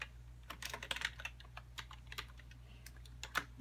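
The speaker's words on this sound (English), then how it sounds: "Bear with me if I type it wrong." Keys clatter on a computer keyboard as a login is typed, a close, quiet run of irregular taps with short pauses and a soft steady hum beneath.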